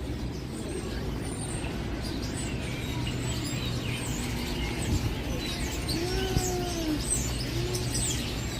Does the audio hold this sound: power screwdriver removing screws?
no